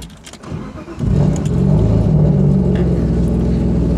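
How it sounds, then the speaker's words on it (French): A BMW E36 car engine cranks briefly, catches, and settles into a steady, loud idle rumble that continues to the end. "La nouvelle voiture de Jérôme, j'arrive pas à tourner la clé."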